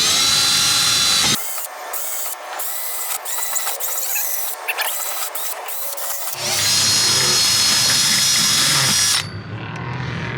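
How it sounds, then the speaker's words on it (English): A power drill boring holes into an intake plenum reinforcement bracket, running loud in a sustained whine, stopping for a stretch of start-stop bursts, then droning steadily again before cutting off near the end. "Now I'm just going to just drill a bunch of them and then just take out the middles"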